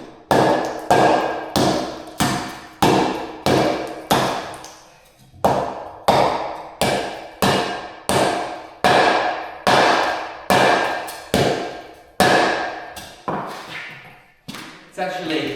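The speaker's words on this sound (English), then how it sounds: "I'll give it a little bit of a kick with the hammer, and then see if this sort of crumbles" Set concrete takes repeated hammer strikes: about fifteen sharp, loud knocks in a steady rhythm, each followed by a brief ringing decay, with short pauses between groups of blows.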